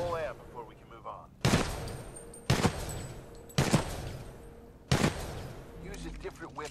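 Four loud, separate gunshots ring out at regular intervals from a weapon during Titanfall 2 training, each with a sharp crack and decaying tail, while a voice speaks between the shots.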